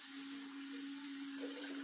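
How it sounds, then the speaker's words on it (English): Hot tap water runs steadily into and around a mason jar during a quick rinse, a constant close hiss with a faint hum underneath and no talking. "I rinse with like super hot water"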